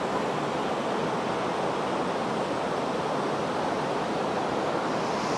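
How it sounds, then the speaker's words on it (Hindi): The Alaknanda river rushes through the Kedar valley near Kedarnath, a loud, dense and continuous roar of flowing water with faint wind, no voices. "और सामने देखो अलकनंदा नदी बहती हुई"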